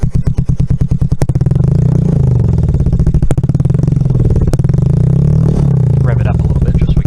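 Up close, an engine cranks with rapid, even chugs, then catches and keeps running at a loud, steady, throbbing idle.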